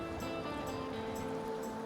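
Steady rushing water of a river flowing right beside a yurt camp in Kyrgyzstan's Kok-Kiya Valley, a continuous broadband wash heard close and fairly loud, with no talk.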